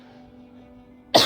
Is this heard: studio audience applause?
no